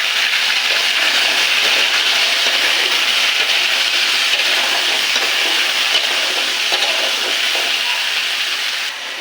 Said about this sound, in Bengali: ভাজবো।